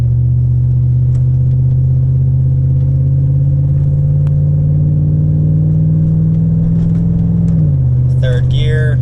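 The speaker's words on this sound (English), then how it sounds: "then we'll do a full throttle pull and kind of see if we can tell any significant difference with the performance tune versus the stock tune" A Chevrolet Silverado truck with a performance tune pulls at full throttle, its engine giving a loud, steady, close drone that holds one pitch and then drops briefly as it shifts gears, with speech at the end.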